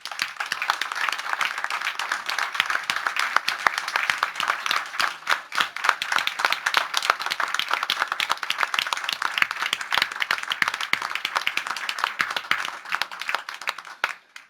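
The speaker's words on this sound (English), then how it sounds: "please join me as we applaud these local leaders who truly care about Northside staff, students, and patrons" Steady applause from an audience at a school board meeting, many hands clapping at once for about fifteen seconds, dense and continuous before it tapers off at the end.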